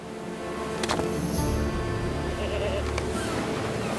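A couple of goat bleats sound in the game LOTRO, clear and nearby, layered over continuous game ambience and music.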